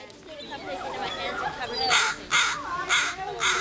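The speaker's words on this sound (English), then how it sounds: "And these are birds." Crows give several loud, harsh caws in quick succession nearby, while a person talks underneath them.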